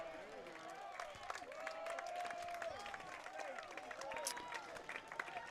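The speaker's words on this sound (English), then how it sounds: "And now the crowd's starting to cheer." A baseball crowd at a Chatham Anglers home game against the Wareham Gatemen claps and cheers steadily in the distance, with a public-address voice or announcer talking over the noise.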